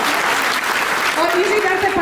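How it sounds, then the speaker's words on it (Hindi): Audience applause at a live Hindi poetry recital, a steady broad wash of clapping filling the short moment, with faint tonal voices or music threaded underneath. "सुनीता केशवा, एक बार तालियां होनी चाहिए"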